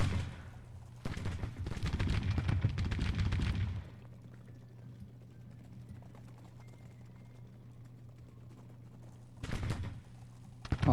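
Cannons and rifles firing in a Civil War strategy game, Grand Tactician, at the Battle of Wilson's Creek: a dense burst of rattling gunfire for a few seconds, then a low steady hum, then another short volley.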